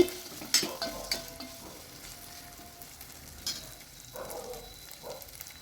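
Ginger garlic paste fries in a pan, a quiet steady sizzle broken by a few scraping stirs and light clinks of a spoon against the metal.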